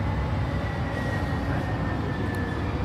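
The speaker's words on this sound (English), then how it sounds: "Just got off the train, and it's now leaving the station." A train pulls out of a station, giving a steady, continuous low rumble of rolling wheels and motor with a faint tonal whine on top, fairly close and loud throughout.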